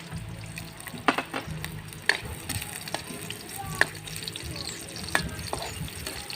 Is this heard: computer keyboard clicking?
no